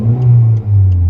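A turbocharged Ford Figo with a 63 mm stainless exhaust running straight back from the downpipe rumbles and revs close by, a steady deep drone with one brief dip before it picks up again.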